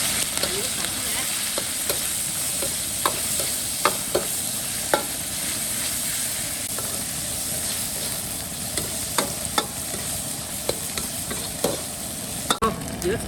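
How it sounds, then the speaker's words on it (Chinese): Chicken stir-fried in oil in a wok, a continuous close sizzle broken by repeated clicks and scrapes of the spatula against the pan, with no speech. "鸡肉下锅，把油炒出来。"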